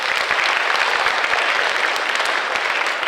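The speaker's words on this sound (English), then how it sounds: "I think you should give yourselves a round of applause." Students giving themselves a round of applause in a classroom-sized group, dense steady clapping that continues at an even, moderate loudness for the whole span.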